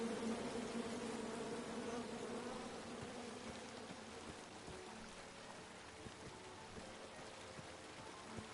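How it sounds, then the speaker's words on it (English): A swarm of angry bees in the King's Quest video game drones in a steady, faint, continuous buzz with a slightly rising hum, heard alone without speech. "Come at me, bees!"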